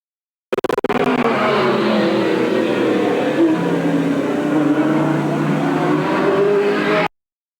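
Race cars roar past at Eugene Speedway in 1987, a loud, continuous engine drone that rises and falls as they run close by, with faint commentary mixed under it.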